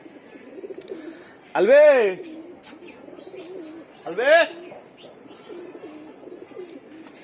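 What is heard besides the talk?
pigeon cooing after returning home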